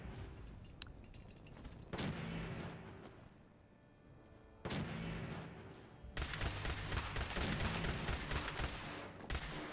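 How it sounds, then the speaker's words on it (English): Gunfire in the Fallout 4 video game as eggs are shot: bursts of rapid, loud shots in a modded survival session, sporadic at first and then building into a dense, continuous volley. "You shoot the eggs instead of the pile of dirt they're sitting on"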